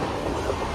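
Steady rumble of a passenger train running, heard from inside the coach on a long rail journey toward Ratnagiri, a continuous low roar with faint rhythmic clatter and no talk.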